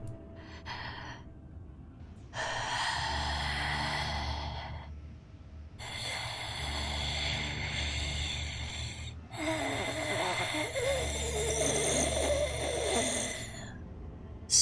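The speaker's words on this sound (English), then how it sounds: "paced, relaxed breathing" Slow, relaxed breathing heard up close, long drawn inhales and exhales alternating in an unhurried rhythm, each breath lasting a few seconds with brief quiet between.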